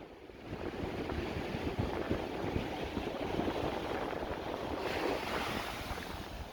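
Morning ocean waves washing onto a beach at Mazatlan, a steady broad surf wash with gusty wind on the microphone, fairly faint and without talk.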